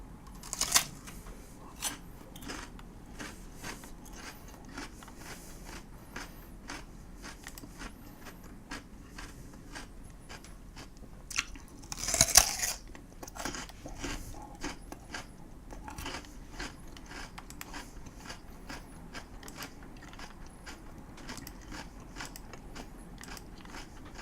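A man bites and chews a whole raw radish with crisp, close crunching that repeats steadily throughout, a louder burst of bites near the middle, and no talk.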